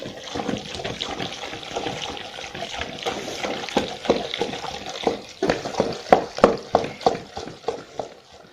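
Cooked mustard greens for sarson ka saag being mashed with a wooden ghotna in a pot, wet squelching strokes that grow louder and more rhythmic, settling into a steady beat of repeated thumps.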